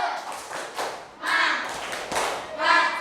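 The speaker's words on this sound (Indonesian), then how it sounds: "mari kita tepuk semangat biar supaya pelajarannya tambah semangat." Classroom of children doing a rhythmic spirit clap together, several bursts of group hand clapping with soft thumps and taps in between, close and moderately loud.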